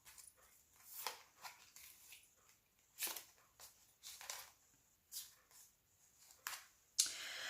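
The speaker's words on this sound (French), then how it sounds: "je vais plutôt vous sortir déjà toutes les cartes" Tarot cards are laid out one after another, giving a series of soft brushing slaps and slides at irregular intervals, close and quiet, with a sharper snap near the end.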